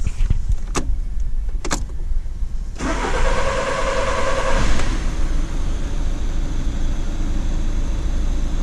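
A Skoda Octavia diesel with depressurized fuel is slow to start, cranking for a few seconds with sharp clicks before catching and settling into a steady, close mid-pitched idle.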